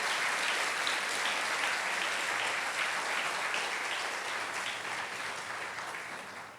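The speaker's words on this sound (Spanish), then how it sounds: "dale fuertes palmas al Rey de Reyes" A church congregation claps loudly and steadily in praise during a 44th anniversary thanksgiving service, a dense sustained wash of many hands that tapers slightly toward the end.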